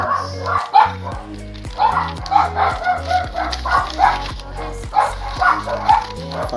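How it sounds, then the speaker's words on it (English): Several dogs bark and yip in quick repeated bursts nearby, loud and continuous throughout, with some whimpering mixed in. "Oh, the dogs."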